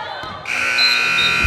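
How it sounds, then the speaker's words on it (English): A buzzer ends the third quarter of a girls' varsity high school basketball game, a loud, sustained electronic tone that starts abruptly after a brief quieter moment and holds to the end. "There's the buzzer for the third quarter."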